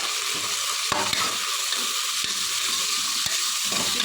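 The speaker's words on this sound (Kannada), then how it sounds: "ಇದೆಲ್ಲ ತುಪ್ಪ ಮತ್ತು ಎಣ್ಣೆಯಲ್ಲೇ ಚೆನ್ನಾಗಿ ಫ್ರೈ ಆಗಬೇಕು" Drumsticks and dill leaves fry in ghee and oil, a bright continuous sizzle with a few distinct spoon knocks against the pan as they are stirred, close up and without talk.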